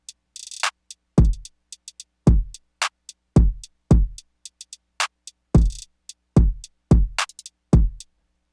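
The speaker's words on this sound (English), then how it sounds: "So drums all together sound like this" A full drum beat programmed in FL Studio for a sad, nostalgic track: punchy booming kicks with snappy snares and pitched hi-hat rolls in a steady, syncopated pattern, crisp and up front with no talking.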